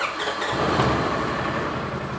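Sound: Polaris RZR 900S engine starting and idling

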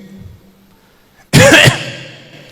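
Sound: imitated parrot cough

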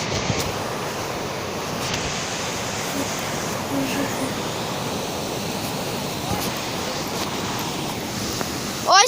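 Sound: flooded mountain river churning in the Carpathians

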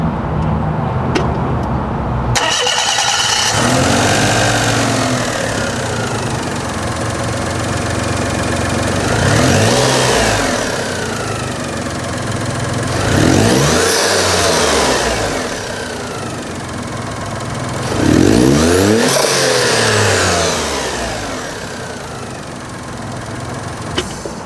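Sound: Daihatsu Mira L500S turbo engine running and revving

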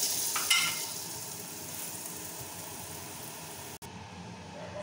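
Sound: aloo paratha frying in butter on a pan

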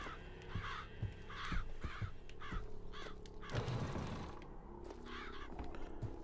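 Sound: crows cawing in video game Bioshock Infinite

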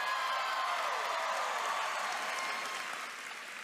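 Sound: audience applause for Jordan Fisher at D23 Expo

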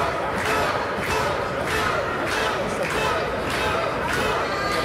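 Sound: wrestling crowd cheering for Luke Logan

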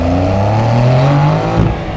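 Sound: Porsche 911 GTS Cabriolet engine and exhaust accelerating

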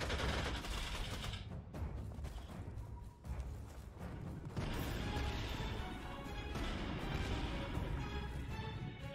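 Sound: support fire gunfire in the video game Panzer Corps 2

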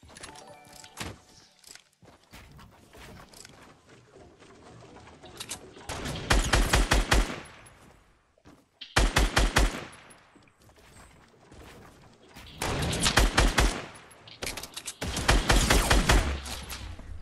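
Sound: gunfire from another player in the video game Fortnite

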